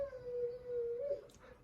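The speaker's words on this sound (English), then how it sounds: "you can hear my dog in the background" A single dog howls in a long, wavering tone, fairly faint and somewhat distant, ending with a brief whimpering rise.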